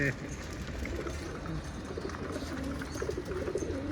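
Pigeons coo in a low, continuous murmur from a loft of fighting-breed birds, mixed with steady background noise and some overlapping talk.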